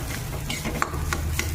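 Soaked sabudana khichdi being stirred in a pan, a low steady sizzle with quick spoon scrapes against the metal.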